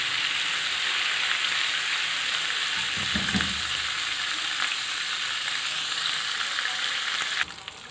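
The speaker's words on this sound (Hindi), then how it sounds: "अदरक लहसुन को हमें ब्राउन करना है।" Ginger garlic paste sizzles in hot oil for a tadka for whole masoor dal, a steady, close, loud frying hiss with a brief stirring clatter near the middle and no talking.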